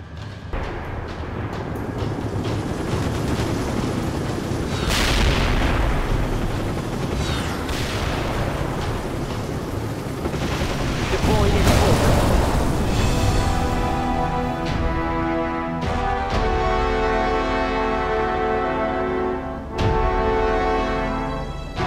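Battle sounds from the World in Conflict PC game: dense rolling gunfire, machine-gun bursts and heavy explosions and artillery booms, loud and continuous throughout with no speech.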